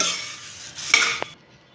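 Puffed rice (borugulu) is stirred in a hot pan, giving a dry rustling scrape with a couple of sharp clinks from the utensil, then cutting off abruptly.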